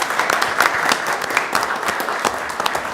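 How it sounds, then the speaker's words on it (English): City council meeting audience breaking into applause, a dense, even patter of many hands clapping together, moderately close and sustained with no talk over it. "A good round of applause."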